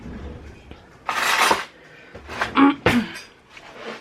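Cutlery and dishes clatter as a spoon is fetched in a home kitchen, with two or three bursts of metal-on-ceramic clinking and rattling separated by brief quiet moments.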